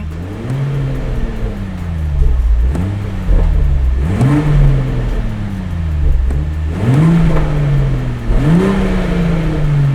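A Toyota GR sports car engine in sport mode on the stock exhaust revs repeatedly, about five sharp rises in pitch each falling back, loud and close, with a throaty exhaust rumble between revs.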